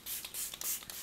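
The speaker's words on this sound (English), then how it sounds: "Then we're gonna throw on a little bit more spray." Makeup setting spray hisses out in several quick, close bursts over about a second, each puff bright and airy with short pauses between, no voices.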